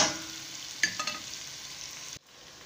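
Kabsa rice being stirred while it fries in a pan: a steady close sizzling hiss with a few brief scraping clicks of the spoon, cutting off abruptly near the end.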